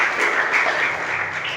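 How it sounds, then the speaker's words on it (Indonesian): A church congregation claps together, a short burst of steady, evenly spread applause, fairly loud and close, with no voices over it. "Beri tepuk tangan terbaik untuk Tuhan Yesus"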